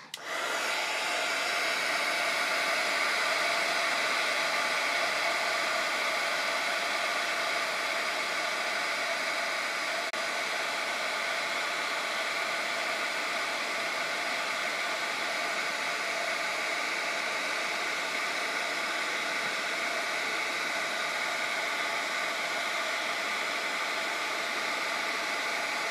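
A heat tool blows hot air onto a DIY bird cage Christmas ornament, a steady, loud, close whooshing drone that holds unbroken for the whole stretch with no talk.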